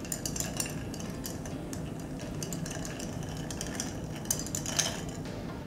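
Spoon clinking lightly against a glass as orange juice is stirred into a vodka cocktail, a soft, irregular tinkling of a few strokes, fairly quiet, with no talk.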